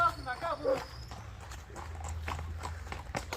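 A trained horse prepared for the ulak (kok-boru) game walks with close, distinct hoof clip-clops in an irregular rhythm, while someone talks over it.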